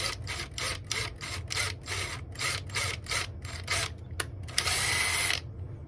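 A power drill whirs in a rapid series of short bursts, close and bright, drilling a hole in a guitar headstock, followed by a longer sustained burst before stopping.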